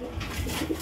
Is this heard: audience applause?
no